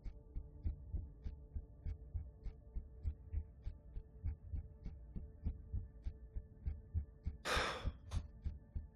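A heartbeat sound effect played on a live show to build tension, a steady, low, throbbing double pulse repeating about twice a second at moderate loudness, with a brief breathy gasp-like burst near the end.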